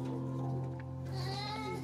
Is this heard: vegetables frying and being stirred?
no